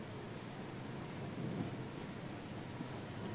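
Capital letters being written by hand on paper, faint scratchy pen strokes in short bursts over a soft steady background hiss.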